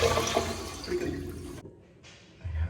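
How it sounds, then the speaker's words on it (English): A Toto toilet flushes up close with a brief rushing whoosh that cuts off abruptly, followed by a short pause and the first gurgle of the refill. "And the flusher works."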